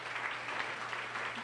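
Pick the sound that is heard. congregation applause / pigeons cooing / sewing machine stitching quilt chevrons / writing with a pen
congregation applause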